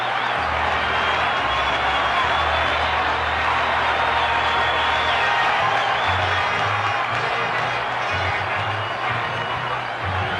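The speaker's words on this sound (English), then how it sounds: "Should get a nice hand from this crowd." A big ballpark crowd at the 1976 World Series, Reds game, applauding Thurman Munson as he comes up to bat: a steady, dense roar of clapping and cheering that holds for the whole stretch, with no voice heard.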